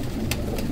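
A male pigeon of the kind called 79 or Sialkoti gives a couple of short coos over a steady low background hum.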